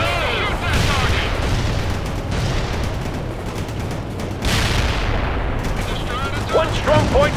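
Battle in the World in Conflict video game, with dense rolling gunfire and heavy booms continuing throughout, loud and close, while radio-style voices speak over the combat.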